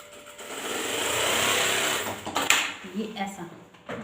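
A single-needle lockstitch sewing machine with an under-bed thread trimmer runs in a steady whir, then slows into a few clunks and clicks as the thread is cut; a voice talks over it.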